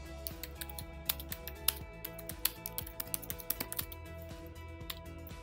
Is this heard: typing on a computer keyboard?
yes